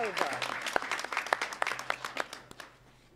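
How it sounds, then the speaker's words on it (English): Scattered audience applause at the close of a conference session on digital inclusion for Africa, a room of people clapping unevenly for a few seconds before it thins out, with a voice briefly heard over it. "So would we give them a big round of applause?"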